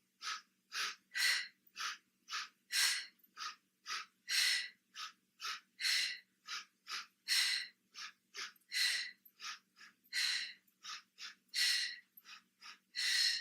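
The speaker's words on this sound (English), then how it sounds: "I like to do 2 inhales through my nose." Quick nasal breaths taken during a Pilates single straight leg stretch, about two dozen short sniff-like inhales and exhales in steady alternating rhythm, close and clear with no talking.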